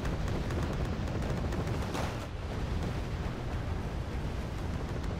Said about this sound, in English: dropping a bunch of nape into the forest